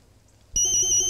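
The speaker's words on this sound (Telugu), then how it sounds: "ఇదేంటి నా సెల్ కూడా రింగ్ అవుతుంది? ఎక్కడేమో మోగుతుంది." A cell phone suddenly starts ringing after a moment of near silence, giving a loud, steady electronic ringtone.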